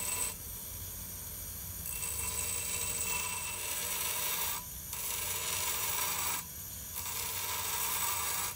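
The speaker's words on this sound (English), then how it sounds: "I take 10 minutes to grind and taper the outside of the socket" Steady rasping of a grinder or file working the socket of a hand-forged steel arrowhead, continuous and close, with two brief pauses where the scraping drops out before resuming.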